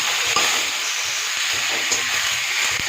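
Steady sizzle of potatoes frying in a pan for vegetarian aloo dum, a continuous bright hiss with occasional small pops and faint stirring clatter, close and fairly loud.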